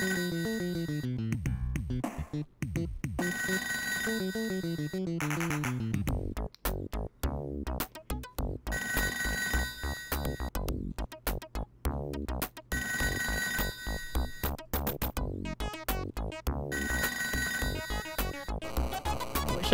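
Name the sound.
telephone ringing in video game ToeJam & Earl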